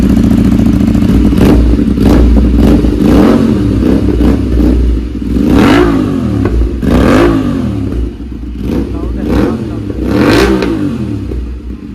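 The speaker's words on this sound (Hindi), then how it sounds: "हम ये वाला एग्जॉस्ट चेक करेंगे" An Aprilia RS 457 fitted with an SC Project exhaust revs hard and loud, about eight sharp throttle blips rising and falling over a steady idle, with crackles between them.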